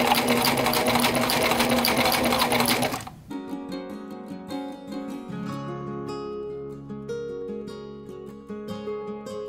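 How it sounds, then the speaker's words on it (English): A sewing machine runs a zigzag stitch over dental floss on fabric cut from a bed sheet, first in a dense fast whir, then in a quieter, steady run of rapid ticking stitches. "Let's go do that zigzag stitch."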